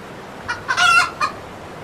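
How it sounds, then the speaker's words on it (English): A cartoonish chicken clucks in a pirate-themed video game, a few short squawky bursts with one longer, louder cluck in the middle, clear and close with no talking. "Is that a pirate chicken?"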